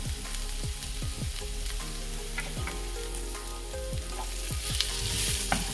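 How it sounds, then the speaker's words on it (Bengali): Onions frying in a pan for a home-cooked meal, a steady close sizzle with frequent scraping stirs of the spatula throughout, fairly loud and with no voices. "বাট একটুখানি আর একটু ফ্রাই করতে হবে আর একটু লাল লাল করবো পেঁয়াজটাকে"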